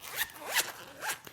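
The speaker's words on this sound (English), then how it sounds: "that sound you heard was me unzipping the zipper on my quad" A zipper on a quad's cover is pulled open in three quick, rasping strokes, close but fairly soft, with no voice over it.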